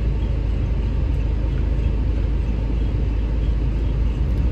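Vehicles stuck in a traffic jam produce a dense, steady low rumble of engines that stays loud and unchanging throughout, with no clear talk.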